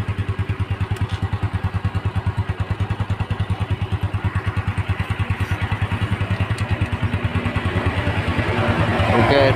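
A Yamaha Mio scooter engine runs steadily after its CVT was repaired, giving a close, even, rapid putter with a faint mechanical clatter and building slightly louder near the end.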